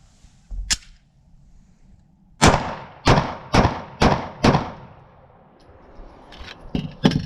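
A Smith & Wesson M&P Shield 9 pistol fires five loud, sharp shots in a quick, steady string, with a fainter shot before and a couple of lighter reports near the end.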